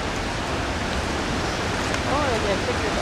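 A steady, dense roar of falling water from an outdoor waterfall fills the scene evenly and loudly, broadband and unbroken, with a faint whistle-like call briefly rising over it near the end.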